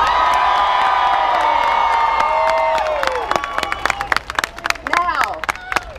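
A large crowd of March for Science demonstrators in Pittsburgh screams and cheers loudly and continuously outdoors, then breaks into scattered whoops, shouts and clapping as the roar fades.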